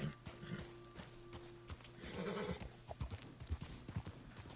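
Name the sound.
horse hooves clip-clopping, from video game Red Dead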